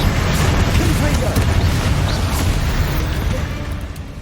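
Confringo fire spell blasts in Hogwarts Legacy, loud rumbling booms and crackling bursts that run steadily for several seconds and fade slightly toward the end.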